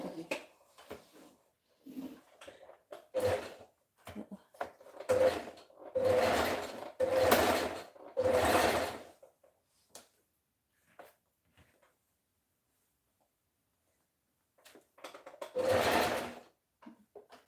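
A sewing machine stitches fabric for a two-piece top and skirt in several close, short bursts of whirring separated by quiet pauses, with one final run after a longer silence.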